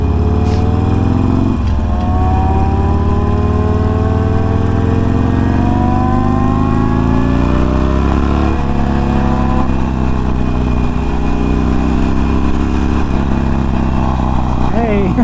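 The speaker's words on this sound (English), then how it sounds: "A Grum and a sport bike, a Gixxer." Suzuki Gixxer sport bike engine revving as it passes, its pitch climbing and shifting over a steady background of traffic and other engine noise, fairly loud and continuous throughout.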